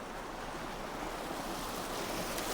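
A small, clear stream in rural Korea rushes along in a steady, dense wash of flowing water, close and constant with no voices over it.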